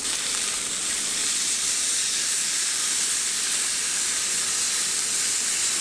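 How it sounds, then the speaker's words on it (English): Steady loud hiss and sizzle of a grease fire flaring on a camp stove while stuffed mushrooms cook outdoors, a continuous broadband roar with no pauses and no talk. "Ooh, grease fire."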